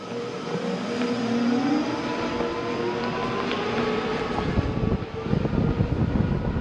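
An InMotion V10F electric unicycle accelerates, a steady whine with rising tones over continuous road and wind rumble, holding loud throughout with rougher bursts near the end.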